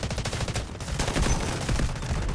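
Quick, rhythmic automatic gunfire rattles in the mobile shooter Delta Force Mobile, a steady close burst of shots running through the short moment with no talking.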